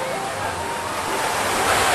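Water pouring steadily from an upper stone terrace onto the one below at a natural rock garden and swimming pool in Purwakarta, a continuous broadband rush close by that swells slightly toward the end.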